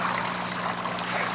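Water trickles and splashes steadily in an indoor fish pond, circulated by a pump through filtering plants such as water lilies, a constant close wash of flowing water with no talking.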